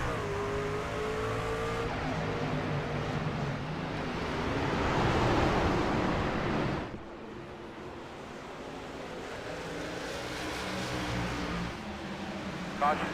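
Race trucks in a video game race at New Smyrna, with a steady engine drone and rising revs heard from on board the pace car. The roar swells mid-stretch, drops suddenly, then builds again.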